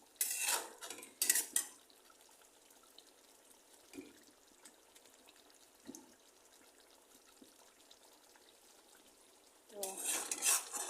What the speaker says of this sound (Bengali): তো এই মাছগুলো দিয়ে দেওয়ার পরে এখন এটাকে একটু উল্টে পাল্টে দিতে হবে।